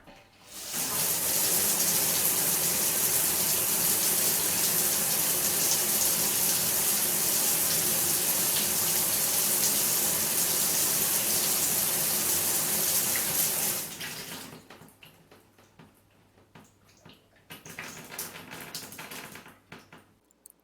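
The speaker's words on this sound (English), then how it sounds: "35 gallons of water is wasted in a 10-minute shower" Shower water runs in a loud, steady hiss for about fourteen seconds, then shuts off abruptly, leaving quiet room sound with a few soft knocks afterward.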